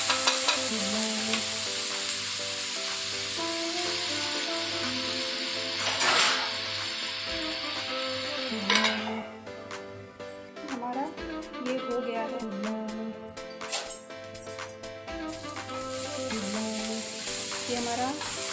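A paneer chilla mixture fries in a pan over a medium flame, giving a steady close sizzle with repeated scraping stirs and occasional clinks, while a voice talks over it.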